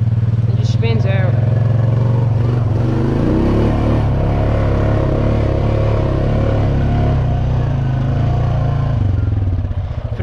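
An ATV's wheels spin out in a clay creek bed, its engine droning loud and steady close by under a rushing, clattering wash of churned water and mud, with a brief higher whine near the start.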